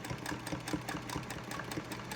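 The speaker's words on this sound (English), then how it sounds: "now I'm going to sew across the bottom" A sewing machine stitches a straight seam across the bottom of a fabric face mask, running in a steady fast chatter of needle strokes, close and alone.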